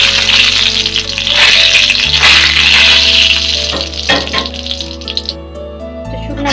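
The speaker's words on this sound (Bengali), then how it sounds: "শুকনা মরিচগুলো আমি প্রথমে ভেজে নেব।" Dried red chillies fry in mustard oil in a wok, giving a continuous close, rushing sizzle that softens slightly toward the end.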